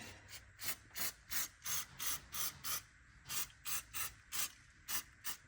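A spray can hisses in a steady series of short bursts as aluminum flat-tow mounting parts for a 2023 Jeep Grand Cherokee are painted, about a dozen evenly paced sprays, close and fairly quiet.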